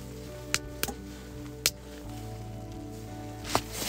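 Meat reheats in a frying pan with rice and cheese over a campfire in snowy winter camping conditions: a steady, soft sizzle with a few sharp clinks of a utensil against the pan.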